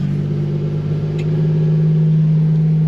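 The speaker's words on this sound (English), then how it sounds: "Give it some throttle." A truck engine running under throttle, a loud, steady low drone with a constant hum, heard up close.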